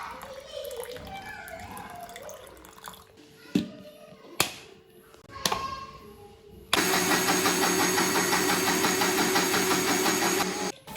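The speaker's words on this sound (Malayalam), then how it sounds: "എന്നിട്ട് നമ്മൾ മിക്സിയിൽ അടിക്കും" A few knocks and clatters, then a mixer grinder churning butter with water switches on and churns loudly and steadily for several seconds, muffled sloshing within its whir.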